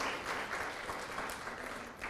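A church congregation claps together during a Spanish-language sermon, a steady, even wash of applause from many people lasting throughout without a break.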